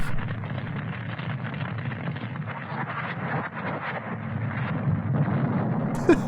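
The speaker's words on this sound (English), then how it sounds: "This thin wooden door should keep those rolling explosions under control." Dense, continuous rumbling roar of rolling explosions on a boat in an old film, sustained throughout and rising slightly toward the end, with a brief sharp crack near the close.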